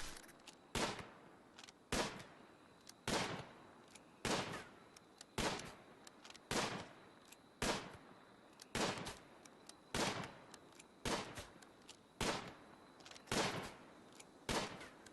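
Gunfire from the video game RimWorld as colonists shoot animals: single loud reports keep coming at a steady pace, roughly one shot every second or so, each with a short tail, and no voices.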